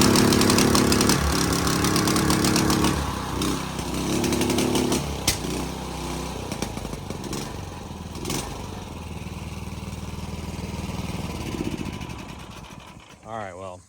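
A surface drive mud motor engine revs hard at full throttle, a loud, raspy, buzzing roar with choppy stuttering pulses and kickback as it bounces off the limit, close and continuous before tapering off at the end.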